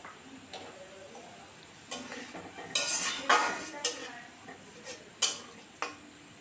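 A spoon stirs and sautés masala with ginger paste in a cooking pan while making chicken noodles. Intermittent scraping and clinking strokes come close up, with no talking.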